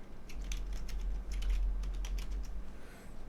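Fingers tap out commands on a computer keyboard running Pop!_OS 20.04, a quick irregular run of crisp clicks and key thuds close to the microphone, pausing briefly near the end.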